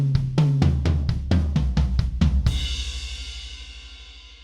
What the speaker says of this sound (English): and going around the drums, it sounds like this.